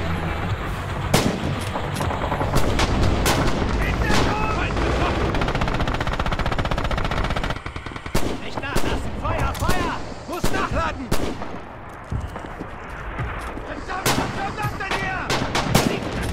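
Red Orchestra 2 battle game with tanks: dense machine-gun fire and sharp gunshots rattle almost continuously, with heavy booming cannon blasts scattered throughout and a player speaking occasionally beneath the noise.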